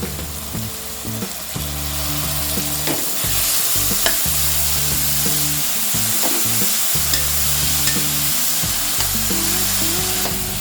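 Spring onions and tomatoes fry with a steady sizzle in a pan as a spatula stirs them in repeated scraping strokes, close and prominent, over a low background hum and without any talking.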